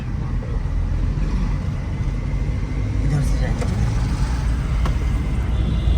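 Road traffic jam on the way to Howrah, a steady drone of nearby car and bus engines with an occasional air-brake hiss, while a person talks over it.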